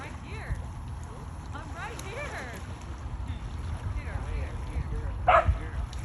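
Faint, distant dog barks and yips scattered over a windy outdoor background, with occasional people talking nearby.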